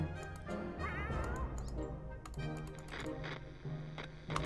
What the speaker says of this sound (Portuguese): Ó esse gato aqui olhando pro Pia morrendo, velho.